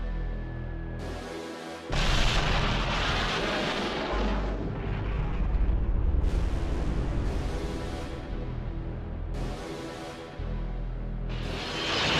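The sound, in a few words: heavy cannon artillery fire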